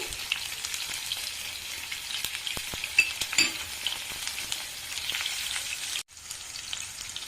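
Green chilies and chopped onions fry in hot oil for a besan (gram flour) curry, a steady close crackling sizzle with a few sharp pops and stirring clinks, briefly cutting off near the end before resuming.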